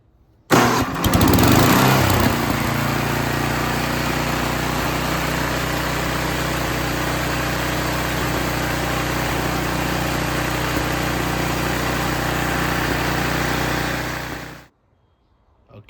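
A snowblower engine fitted with a new carburetor starts on electric start and settles into a steady, loud, continuous running drone for about fourteen seconds before cutting off abruptly.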